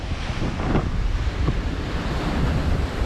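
Loud, continuous swell-surge waves roar and churn against the stones of a sea wall near a breakwater, wind buffeting the microphone, crashing nearby in a steady rumble without voices.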